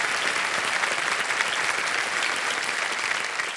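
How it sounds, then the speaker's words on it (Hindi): A studio audience on a television quiz show applauding the contestants, dense sustained clapping at a steady level from start to finish, with no voices standing out. "जोरदार तालियां बज जाए इनके लिए"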